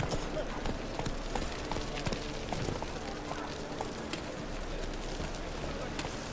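Hoofbeats of Roach, the horse in The Witcher 3, galloping at a steady rapid rhythm over a continuous ambient game background, with faint bird calls and no speech.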